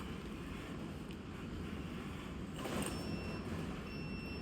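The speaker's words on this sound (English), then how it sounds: "the wind's blowing 60 million miles an hour" Strong wind buffeting a microphone outdoors, a loud, steady roaring rumble that swells slightly near the middle and runs unbroken, with no talking.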